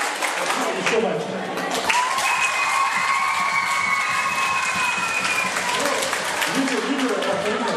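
A room of children claps loudly during a road safety quiz with traffic police, a steady burst of applause with some cheering and voices mixed in throughout.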